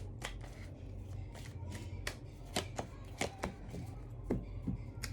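Tarot cards shuffled and drawn for a Sagittarius 2023 reading: a run of soft riffling and sharp card snaps and taps, close and fairly quiet, over a low steady background hum.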